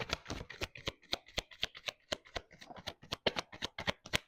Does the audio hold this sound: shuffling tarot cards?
yes